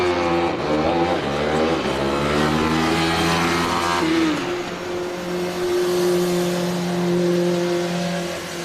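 A Formula SAE race car accelerates hard at a competition acceleration event, its engine revving up through rising harmonic sweeps and then holding a steady, loud drone as it pulls away.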